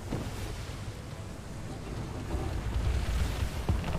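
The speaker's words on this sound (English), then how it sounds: "Now we got some wind." Wind and ocean waves at sea in the video game Atlas, heard from a ship under sail: a steady low rushing wash that swells slightly louder toward the end, continuous and without talk.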